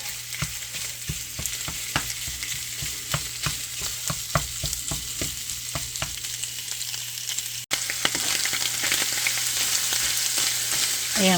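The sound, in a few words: Italian sausage frying in a pot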